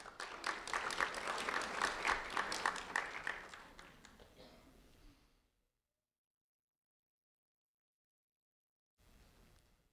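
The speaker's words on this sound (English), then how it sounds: "a round of applause for Izaiah Barrios" Applause from an audience at a sheriff's office recognition ceremony for a student swells loud and continuous, fades out after about five seconds, then returns briefly and faintly near the end.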